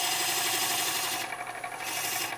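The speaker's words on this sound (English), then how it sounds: "nice scrape cuts. We're not taking big, huge roughing cuts." Turning tool taking light scraping cuts on wood hollowed with a Carter Perfect Sphere, a steady close rasping scrape that runs continuously with slight dips.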